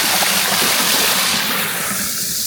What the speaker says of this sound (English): Nice place to chill with all the greenery around and the nice sound of the waterfall.